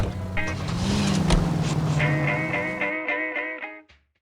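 A car engine drives in the L.A. Noire video game, a steady hum that rises in pitch with some wind noise, then fades away toward the end.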